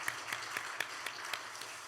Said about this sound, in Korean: 서로를 위해서 크게 박수 한번 하겠습니다.